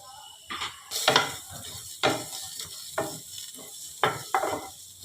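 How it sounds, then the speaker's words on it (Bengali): Green and dried chillies with five or six peppercorns and fennel seeds are dry-roasted in a hot pan, with about six brisk scraping stirs at an uneven rhythm. "কাঁচা লঙ্কা একটা শুকনো লঙ্কা এটা আমি একটু শুকনো খোলায় ভেজে নেব"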